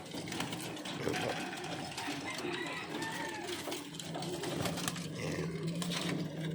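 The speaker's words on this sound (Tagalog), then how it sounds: "Ito yung mga alaga kong ibon." Pigeons coo in a loft housing cock birds and breeders, their soft warbling calls layered over a constant dense hum and chatter of the flock, with faint voices talking in the background.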